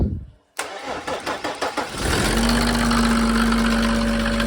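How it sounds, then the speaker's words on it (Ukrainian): A Mercedes OM603 diesel engine driving a new PN40 water pump cranks for about two seconds, then catches and settles into a steady, loud idle with a constant whine. "Глушим, запускаем без свічок."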